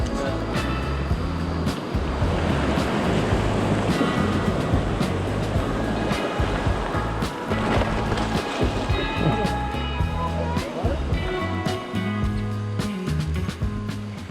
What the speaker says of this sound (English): Big rapids coming up.